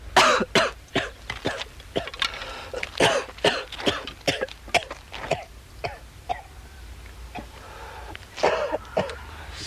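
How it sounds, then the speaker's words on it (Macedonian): A man coughs and clears his throat again and again in ragged bursts, loud and close, with short pauses between fits. "Се поубаво си кашлаш."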